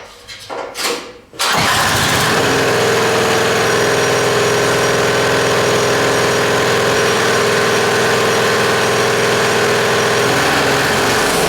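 A diesel engine, swapped into a vehicle, cranks with a few uneven coughs, then catches and settles into a loud, steady idle that runs without change to the end.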